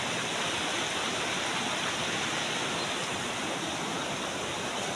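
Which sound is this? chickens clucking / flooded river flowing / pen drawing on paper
flooded river flowing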